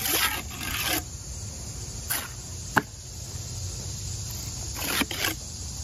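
Steel trowel twisting and spreading material at a wall corner, giving soft raspy scrapes in a few short bursts with one sharp tap, close by and alone without talk.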